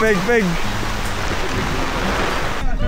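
Steady, dense rain falls near an island on the coast of Samar, a broad continuous hiss that fills the clip, with brief speech at the start.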